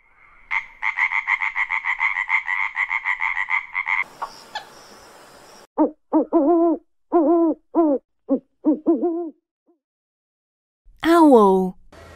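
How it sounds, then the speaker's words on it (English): An owl gives a string of about seven clear, separate hoots close by, following a buzzing frog trill, with one further drawn-out call near the end. "Owl."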